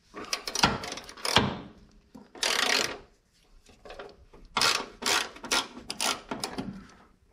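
Loosening a mount bolt during bodywork on a 1959 Dodge Coronet: a series of close ratcheting and scraping metal bursts in irregular spurts, separated by short quiet gaps.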